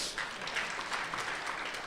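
An audience at a Korean Christian business conference in Tokyo applauds a married couple called to the stage, giving faint, distant, continuous clapping with no voices on top.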